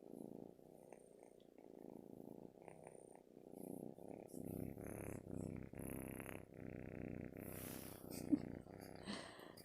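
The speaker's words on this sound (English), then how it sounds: "I don't know if you can hear the purring" A kitten resting in a lap purrs continuously in a close, low, rhythmic rumble with steady pulsing breaths, growing slightly louder over time with a few soft higher noises near the end; no speech over it.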